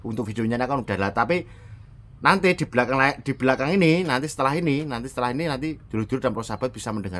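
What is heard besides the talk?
No everyday noises stand out.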